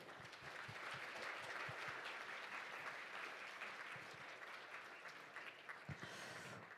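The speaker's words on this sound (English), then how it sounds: "give him a big round of applause." A large audience at an international judicial conference claps loudly and steadily throughout, a dense wash of applause with a few sharper claps near the end.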